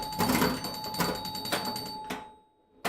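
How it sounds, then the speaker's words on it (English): Electromechanical chimes of an Eight Ball pinball machine ring out in a quick series of bright strikes as points tally up, each ding ringing on briefly before the last few tones stand alone. "Did you hear those chimes going off, counting that tens of points?"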